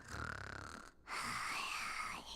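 Snoring from a sleeping character in the video game Genshin Impact, a steady nasal drone that breaks off briefly and then resumes, close and moderately loud.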